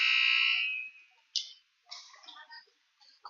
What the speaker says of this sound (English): Not sure why the buzzer went off.